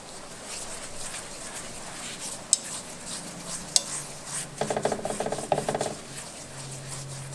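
A pastry brush sweeps canola oil across a chapati, producing soft, steady rubbing and faint sizzling, with a brief burst of quicker scraping strokes near the end; no one talks.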